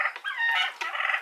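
Farm turkeys and other fowl cluck and gobble in a dense, close, continuous chorus of overlapping bird calls, with no talking.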